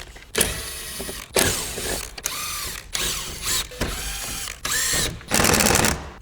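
Phillips head screws coming out of the black part of a Mazdaspeed3 car grill on a table, about six loud, close bursts of a whirring power driver with short gaps between, no talk.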